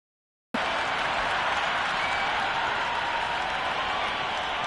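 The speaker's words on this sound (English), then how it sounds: "it's almost palpable, the excitement emanating from this crowd at the moment" Stadium crowd cheering and applauding at a Big Bash League cricket final between Perth Scorchers and Sydney Sixers, a dense, steady roar of many voices and claps that starts abruptly and holds loud throughout.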